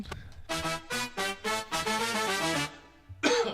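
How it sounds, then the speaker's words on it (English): A run of several harsh, rhythmic coughing bursts, close and loud, ending with a final short cough after a brief pause. "See, perfect timing on that cough."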